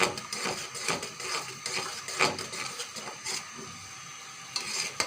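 Jamun jelly juice stirred continuously in a pot with vinegar added, a spoon scraping the bottom in repeated strokes over a soft simmer, close and without speech.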